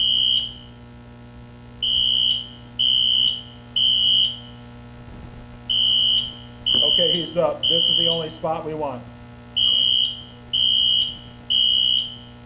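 A fire alarm sounds in a repeating pattern of loud, piercing electronic beeps in bursts of about one second at a high school football game, with people talking in between and over it.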